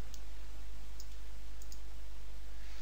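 A computer mouse clicks a few times while navigating disk backup and cloning software: sparse, faint, sharp clicks over a steady background hiss.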